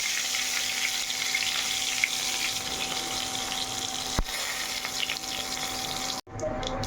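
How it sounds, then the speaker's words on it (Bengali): A bay leaf dropped into hot oil, a steady bright hiss and crackle of sizzling close by, continuing evenly with a brief clunk near the end. "এদিকে তেল আমার গরম হয়ে গেছে, তেজপাতা দিয়ে দিলাম"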